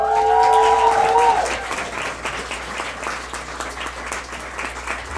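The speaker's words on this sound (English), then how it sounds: "We're going to applaud the poet, not the points." An audience at a poetry slam applauds a poet, steady dense clapping that starts loud over a fading voice or tone and continues throughout.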